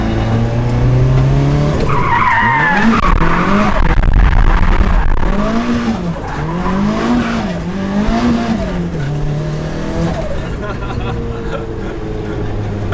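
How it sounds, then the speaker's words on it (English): A car engine with a loud, poor-sounding exhaust accelerates hard, its roar rising and falling through several revving pulls, loud and close throughout. "My exhaust is so bad."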